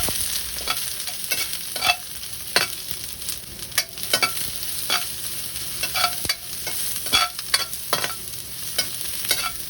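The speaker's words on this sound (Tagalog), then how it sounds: "ihulog na natin kagad ang sibuyas at luya. Halo-haluin." Chopped onion and ginger tossed into hot oil with browned garlic and stirred, a steady sizzle broken by repeated scraping strokes of a spatula against the pan, near and fairly loud with no talking.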